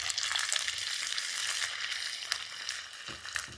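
Ginger frying in hot oil with mustard seeds and fenugreek for Kerala-style chicken pickle, a close steady hiss and sizzle with a few faint stirring clicks, no talking.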